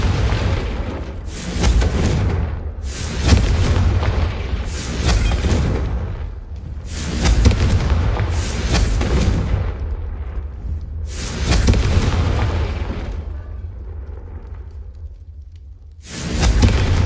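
Confringo explosive spell blasts in the video game Hogwarts Legacy, a series of loud booming bursts at roughly two-second intervals, each with a rumbling decay, separated by brief quieter gaps.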